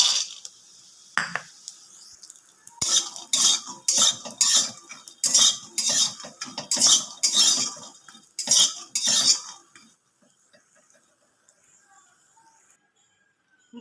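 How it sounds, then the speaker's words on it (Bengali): Bori lentil dumplings frying in mustard oil in a kadai, a spatula scraping and clattering against the pan in quick rhythmic bursts for several seconds before it falls quiet. "বড়িগুলো ভেজে নেব।"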